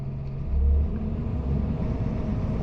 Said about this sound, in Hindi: जैसे मैंने इसे प्रेस किया तो आपका जो आरपीएम है वो चला गया है 10 पर और आपका जो डाला है वो काफी स्पीड से उठना शुरू हो चुका है